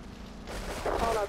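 Grenades go off in GTA III Definitive Edition, a dense, loud burst of blasts that swells and rumbles for about a second.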